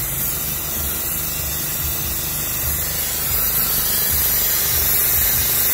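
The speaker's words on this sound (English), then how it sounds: "This is all the overflow air coming out." Steady, loud hissing rushes out of a Peterbilt 579 truck's coolant overflow as air is purged during a coolant refill, a continuous broadband spray over a low rumbling undertone.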